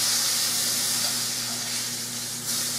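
Sausage sizzles in a frying pan as a steady, close, continuous hiss with a faint low hum underneath and no voices.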